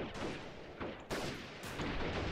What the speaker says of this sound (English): Just got like back-to-back shots there.